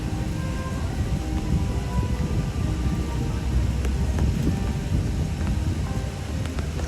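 Steady rain pours down on a rainy day at Epcot, a dense, loud, even hiss of falling drops with a low rumble underneath and no voices.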